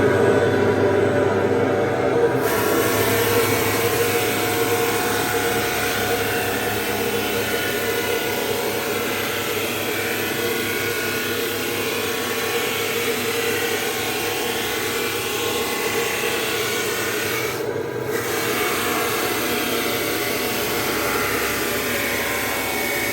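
A DeckSand floor sanding machine runs steadily for the whole stretch, removing coating from a deck at walking speed with a loud, constant droning whir and no talk over it.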